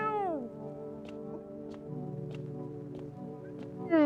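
Cat from the video game Space Island Cerberus gives a single descending meow at the start, then quiet ambient hum with soft ticking clicks, and another meow begins at the very end.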